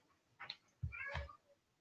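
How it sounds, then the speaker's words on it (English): A house cat meows indoors, two short, faint calls about half a second apart, quiet against a near-silent room. "That's my cat."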